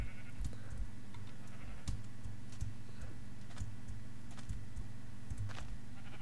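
Minecraft sheep bleat faintly a few times against a backdrop of light ticking and clicking game sounds, with no talking.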